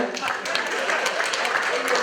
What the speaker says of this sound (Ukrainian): Ваші оплески йому за те, що він нічого не п'є